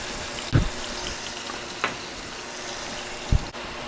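Sausages seasoned with salt and Italian seasoning fry in a pan with a steady, close sizzle, broken by a few soft knocks and stirring bumps.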